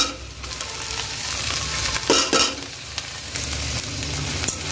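Ghetkochu leaf paste frying in a pan with onion and black cumin, giving a continuous close sizzle with occasional stirring scrapes and a louder burst near the middle.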